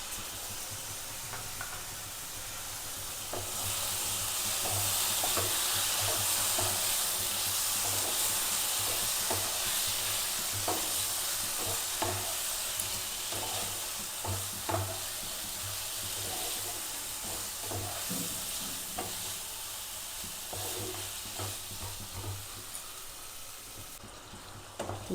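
Cauliflower and egg curry spiced with chili and coriander powder sizzles in a pan with a splash of water while being stirred, a steady frying hiss broken by scattered scraping stirs, fairly quiet and without speech.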